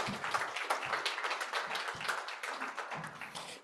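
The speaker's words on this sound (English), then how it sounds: "Give a warm round of applause for First Call" A modest audience claps at the close of a tech sprint session, the individual hand claps distinct and uneven, coming from a small group at moderate distance and fading out at the end.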